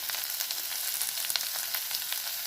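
Vegetables seasoned with pepper powder and salt fry in a pan for veg rolls, giving a faint, even sizzle with light crackles throughout and no talk.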